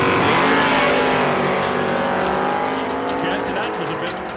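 A 1982 Chevrolet Camaro and a 1984 Ford Mustang roar down a drag strip at Saskatchewan International Raceway, their loud engines holding a harmonic drone that slowly drops in pitch as the cars pull away.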